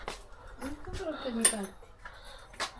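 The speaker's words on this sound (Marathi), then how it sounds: "तवा काढतो मी ते पकडा" A metal tawa griddle pan is lifted out in a home kitchen, giving a few light metallic clinks and clatters. People talk over and between them.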